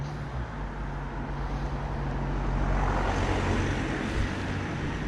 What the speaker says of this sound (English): listen for traffic